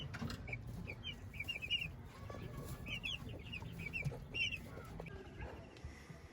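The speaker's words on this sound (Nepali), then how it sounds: "कुखुरा।" A flock of Giriraj chickens, mostly roosters with a few hens, gives short bursts of clucking. The calls are fairly distant and come in scattered clusters over a low, rumbling background.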